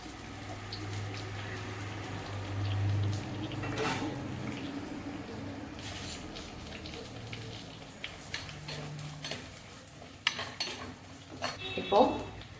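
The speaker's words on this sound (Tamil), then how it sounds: "நான் நறுக்கி வச்சிருக்கிற சின்ன வெங்காயத்தையும் அதில் மிக்ஸ் பண்ணிடுறேன்" Chopped shallots with curry leaves are stirred in a cooking pan, giving soft scraping and clinking of a utensil against metal over a faint sizzle, with sharper knocks toward the end.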